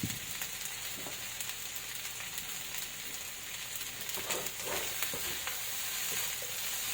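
Fried rice made with leftover rice and barbecued chicken sizzles steadily in a pan while a utensil stirs and scrapes through it, close-up, with a continuous frying hiss and scattered light scraping taps and no talk.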